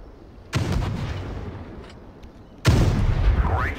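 Two heavy tank cannon blasts in a tank war video game, each a sudden loud boom with a rumbling tail, spaced about two seconds apart.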